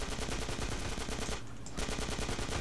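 Rapid automatic gunfire in the video game GTA San Andreas, a dense continuous rattle of shots with a brief lull in the middle before the burst resumes, with no talking.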